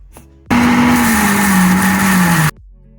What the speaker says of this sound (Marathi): आता हे मिक्सरमध्ये बारीक करून घ्यायचा हा मसाला